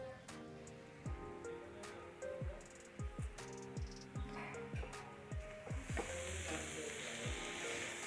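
Cardamom and bay leaves fry quietly alongside roasted coconut in a pan while cooking for Magh Bihu pitha, a faint sizzle under a string of soft sweeping scrapes from stirring, gathering into a louder hiss near the end.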